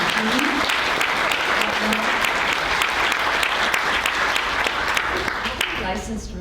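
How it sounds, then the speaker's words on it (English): Audience applause at a real estate top producers panel event, dense and loud, sustained evenly from start to finish. "Let's give a big round of applause to our all-star team."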